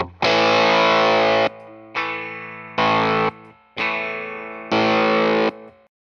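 Electric guitar through Tone Bender-style fuzz pedals from EQD, Keeley and JHS, loud boosted distorted chords struck five times in a steady rhythm, each ringing out sustained and then cut off, played alone with no talking.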